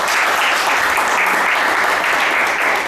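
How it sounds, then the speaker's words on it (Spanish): Dense, steady applause from a small audience at a philosophy café session, many hands clapping at once and holding an even level from start to finish with no voices over it. "vamos a darnos un aplauso"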